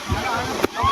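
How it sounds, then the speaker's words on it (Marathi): Water sloshes and splashes at a water park, a steady wash of spray with one brief burst near the end, while voices talk and call out over it. "पाणी येणार पाणी येणार."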